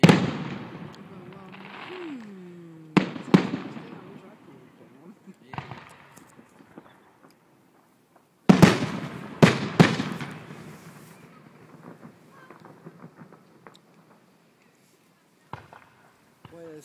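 An outdoor fireworks display in Anacortes booms in scattered loud bursts, with crackles and echoes bouncing off the surroundings, and people talk nearby in between the blasts.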